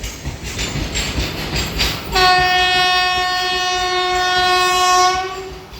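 A Vande Bharat Express on the Durg–Visakhapatnam run rumbles close by as it starts to accelerate. A loud, sustained multi-tone horn rings out over the rolling rail noise for about three seconds.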